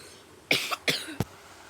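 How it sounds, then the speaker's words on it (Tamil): Three sharp coughs from a person during a Roblox-style jumping game, loud and close, evenly spaced over about a second with a brief pause between each. "கொஞ்சம் இருமல் வந்துச்சு"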